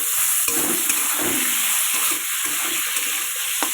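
Tomato fries with spices for a pangas fish curry, a steady bright sizzle from the pan broken by soft scraping stirs.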